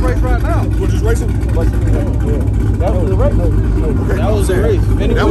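Cars street racing, their engines revving and whining in rising, falling sweeps over a steady heavy roar, loud and close, with people talking and shouting throughout.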